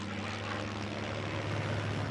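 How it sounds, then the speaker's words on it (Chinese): US military aircraft bombing and strafing in a TV war drama: a steady, fairly faint droning roar of propeller aircraft engines, unbroken across the moment, with no distinct blasts standing out. "美军的飞机就这么狂轰滥炸，难道他们发现我们了吗？"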